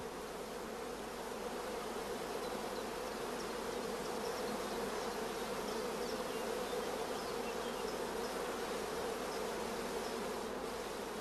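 Dense, steady buzzing of many honey bees crowding around queen cells on a rearing frame taken from a starter colony, a continuous insect hum holding level throughout with no talking.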